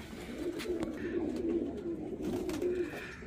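Pigeons bought from Karachi nets coo close by in a series of soft, rolling, throaty calls repeated several times over a quiet background.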